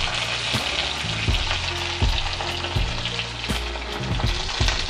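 Steak and sauce sizzle steadily in a frying pan on a home stove, a dense continuous frying hiss with periodic soft clicks and bumps of the pan throughout, close and fairly loud with no talking.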